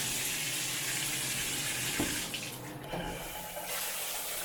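Shower water runs steadily in a standard hotel room at Universal's Hard Rock Hotel, a continuous broadband hiss that dips briefly midway before resuming at full strength, with no voices.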